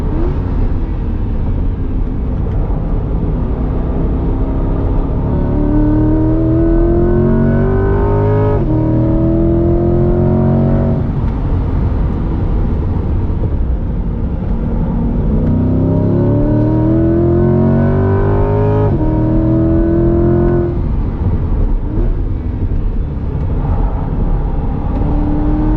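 A 2021 Chevrolet C8 Corvette Z51 with a mid-engine V8 drives hard on a track, its loud engine revving up through rising gear pulls and shifting repeatedly, recorded close with constant road and wind roar.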